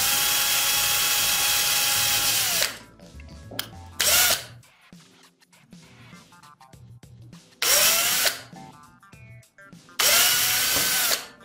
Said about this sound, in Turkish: Matkapla deliyorum.